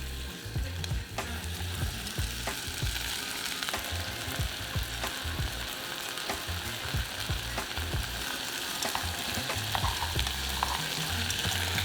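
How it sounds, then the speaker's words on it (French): Steady sizzling of onions frying in olive oil in a saucepan, with occasional stirring scrapes and pops, close and continuous. "Dans une casserole avec un peu d'huile d'olive, on va colorer nos oignons"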